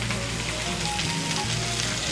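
Hot water goes into a hot pan of shrimp and kochur loti (taro stolons), giving a loud, dense sizzle and hiss that runs steadily throughout.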